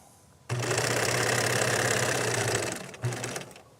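A sewing machine runs steadily, its needle stitching a line at a continuous close whir for about two seconds, stops briefly, then starts again for a short burst.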